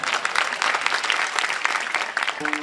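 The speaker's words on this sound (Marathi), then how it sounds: "काय टाळ्या मुडद्यासारख्या वाजवल्या तुम्ही?" An audience at a devotional kirtan gathering in Alandi claps together in a dense, fairly loud burst of applause that lasts a couple of seconds before a voice begins.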